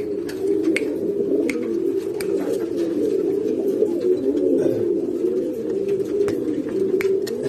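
Pigeons in a breeding loft cooing continuously, several birds overlapping in low throaty rolls with scattered sharp clicks and flutters, close and steady throughout.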